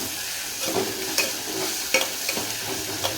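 Garlic and green chili paste frying in a pan, a steady close sizzle with scattered stirring scrapes and small pops throughout, no talking.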